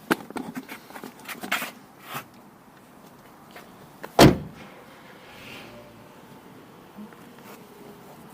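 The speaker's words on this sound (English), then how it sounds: "and then we shut the door." A Mazda MX-5 Miata car door shuts with one solid thud, after a few seconds of faint rustling and handling sounds.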